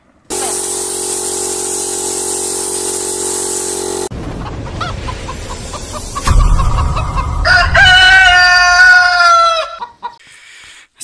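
Chickens cluck and a rooster crows loudly close by in a poultry house, after a long steady spray-like hiss, with rising and falling calls filling the later seconds.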